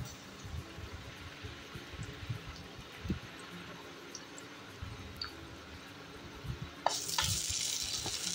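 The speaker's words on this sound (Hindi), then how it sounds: "भुनने देंगे लहसुन को।" Garlic sizzles softly in hot ghee in a pan, a faint, quiet crackle with scattered small pops and a louder burst of hissing near the end.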